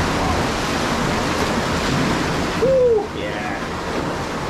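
Ocean surf washes onto a beach on Trinidad's North Coast, a broad steady hiss of breaking waves with some wind, and a brief whistle-like tone rising over it midway.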